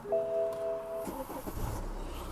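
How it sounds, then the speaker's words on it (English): A BMW F10 with a no-start fault, a faint warning chime followed by the starter cranking and the engine catching into a low idle, fairly quiet and without talk. "Car starts."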